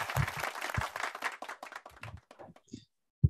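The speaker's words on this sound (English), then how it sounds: "Let's give her a virtual applause." Scattered hand clapping for a guest on a hospitality program, a few close claps in a short irregular burst that thins out and ends with one last clap.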